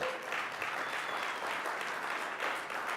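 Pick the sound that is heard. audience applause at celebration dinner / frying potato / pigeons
audience applause at celebration dinner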